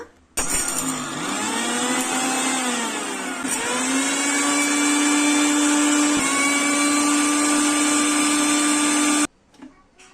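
A Panasonic 750-watt mixer grinder whirs loudly at high speed grinding peppercorns for several seconds, its pitch dipping and rising as they are ground to powder, then cuts off.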